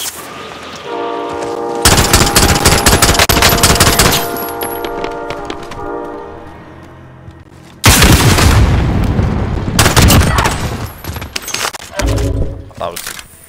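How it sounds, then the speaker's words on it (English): Hip-fire gunfire in Call of Duty Warzone: loud, dense automatic bursts crackle in two long stretches with brief gaps, over a sustained tonal game sound and background noise. "That was full on hip fire."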